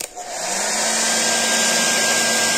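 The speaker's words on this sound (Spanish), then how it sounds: "Y podríamos volver a coger un secador" A hair dryer powered through an FCHAO KSC-3000W pure sine wave power inverter, 12-24 V to 230 V, blows a loud, steady broadband whoosh with a faint motor whine, starting up within the first fraction of a second and running continuously.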